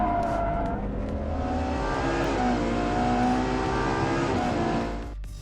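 A Ferrari 812 Superfast V12 accelerates hard out of a hairpin turn near Maranello. The engine note climbs steadily and stays loud and sustained before easing off at the end, with no talk.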